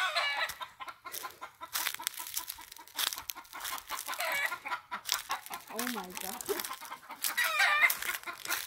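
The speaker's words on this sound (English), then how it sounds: "The chickens cackle, but the roosters are the ones that..." Chickens clucking and cackling with a rooster on a farm in Oregon, a busy mix of hen calls close by, with people talking over them throughout.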